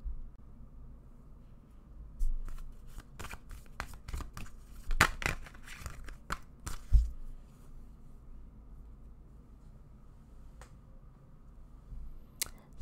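Tarot cards being handled and shuffled, giving a scatter of soft crisp flicks and slaps that cluster in the middle of the stretch, close and fairly quiet, with no talking.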